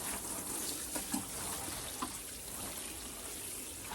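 Water from a watering can splashes and trickles steadily onto sand in a garden bed being levelled for carrots, a soft continuous wash with small spatters.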